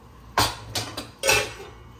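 A teaspoon of cumin seeds drops into hot oil in a pan, giving a few sharp close sizzling bursts that crackle briefly and fade, with no one speaking.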